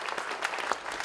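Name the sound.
audience clapping out a rhythm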